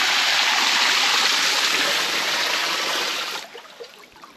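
Cold underground well water pours steadily into a farm swimming pool, a loud, continuous rushing splash that drops off and quiets near the end as the flow is cut.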